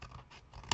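A single quick, crisp snip of scissors cutting through a vellum paper circle at close range, preceded by soft paper rustling.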